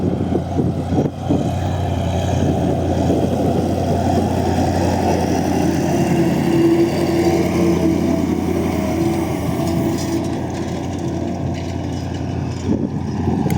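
A steady, loud homemade tractor engine drone runs throughout with a rough, breathy whistle from its two turbochargers layered over it, constant and close, with no voices.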